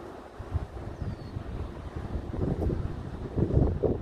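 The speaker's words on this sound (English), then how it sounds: "It is windy as heck right now." Gusty wind from an approaching storm buffets the microphone near a shipping area, in low, uneven rumbles rising and falling, with a faint wash like distant water behind it.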